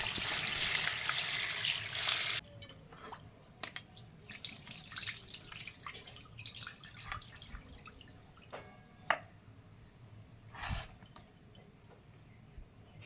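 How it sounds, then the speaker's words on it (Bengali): Turmeric-coated chicken pieces rinsed under a running kitchen tap: a steady hiss of water that cuts off, then scattered drips, splashes and wet handling knocks in a sink, close by. "ওইটাকে এবার ভালো করে ধুয়ে নেবো"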